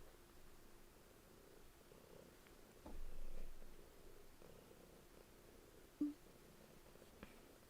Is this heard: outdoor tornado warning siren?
no